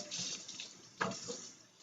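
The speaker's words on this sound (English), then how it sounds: "we're going to shock it by putting it in this cold water, ice water" A hotel kitchen chef shocks freshly cooked food in a bowl of ice water, producing soft splashes and sloshing, with one sharper splash midway; quiet and close, with no talking.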